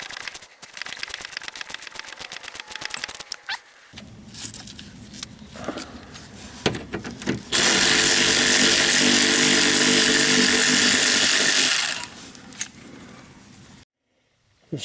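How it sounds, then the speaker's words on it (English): A Craftsman 18 mm pass-through socket wrench ratchets on a rear stabilizer link of a 1998 Corvette, with rapid close clicking for several seconds. A loud, steady buzzing power-tool whine follows. "I'm using a Craftsman 18 millimeter pass-through socket wrench socket on that."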